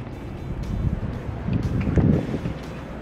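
Wind buffets a microphone outdoors, a steady low rumbling roar that swells and dips throughout, with no voices over it.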